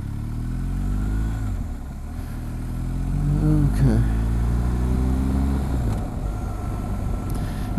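Motorcycle accelerating through corners on a twisty rural road, engine revving up and down in rising sweeps with a steady wind-buffeted drone underneath, a voice talking over it.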